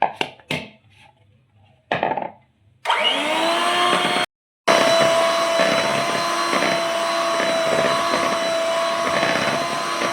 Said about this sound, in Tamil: ஜலிச்சு வச்ச மாவை போட்டு பீட் பண்ணிக்கலாம்.